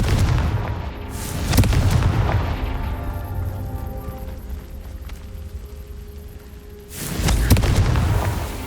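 Fire spell explosions in the video game Hogwarts Legacy: two loud booming blasts, one near the start and another near the end, with a low rumbling tail between them and no talking.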